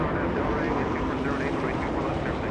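A Boeing Dreamliner airliner at Los Angeles International Airport gives off a broad, steady jet roar that fills the scene. Someone talks close by over the engine noise.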